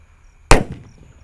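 A Gatot Kaca Jumbo firework, an Indonesian firecracker, launches at night with a single sharp, loud bang that fades quickly into a short, noisy tail.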